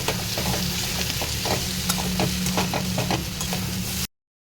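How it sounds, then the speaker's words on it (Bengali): Garlic fries with hand-ground spice paste in a hot pan, giving a steady close sizzle with occasional stirring scrapes, then stopping abruptly. "আমি রসুনটা এর সঙ্গে দিয়ে ভালো করে ভেজে নেব"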